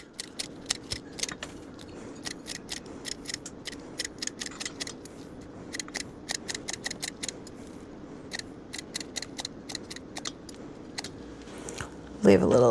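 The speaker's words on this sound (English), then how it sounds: "Dice in some chives from the garden." Garden chives being snipped with kitchen scissors for a quiche, a steady run of crisp, close snips repeating every fraction of a second over a low kitchen background hum, with a louder clatter at the very end.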